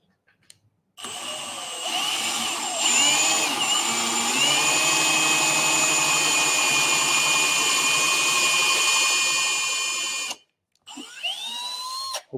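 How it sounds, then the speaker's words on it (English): Loud, close power drill whining continuously for several seconds, pitch shifting as it bites in, then stopping; a brief second burst follows. "Hopefully that drill wasn't too loud for you guys."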